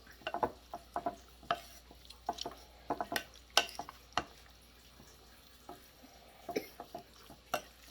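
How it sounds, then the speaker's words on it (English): Soy sauce and oyster sauce being mixed into pepper steak in a pan, irregular clinks and scrapes of utensil against cookware in uneven bursts, close and moderate, with a quiet pause midway. "soy sauce, oyster sauce, mix it."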